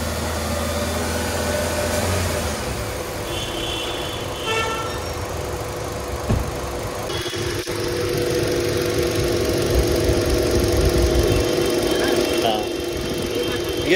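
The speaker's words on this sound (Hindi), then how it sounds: "थोड़ा उसको रेव कर रहे हैं न्यूट्रल में" A Hyundai car engine is revved in neutral, a continuous close mechanical drone that swells a little partway through, while a person talks over it.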